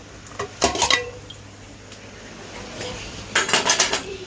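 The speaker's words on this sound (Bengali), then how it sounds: "এই থাল বাসনগুলো ধুয়ে আনতে চাইছিলাম" Plates and dishes being washed at home, with close clinks and clatters of crockery and metal in two short bursts separated by quieter running background noise; no talking.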